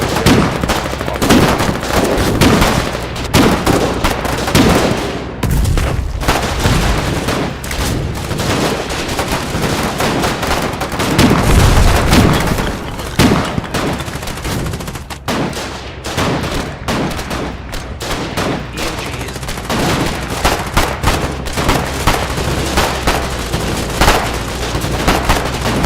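Dense video game gunfire rattles on without pause, with rapid automatic bursts and heavier booms layered together, loud and close throughout.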